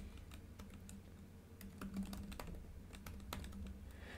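Steady typing on a computer keyboard while entering Java code, a continuous run of quick, close key clicks with a low background hum and no talk.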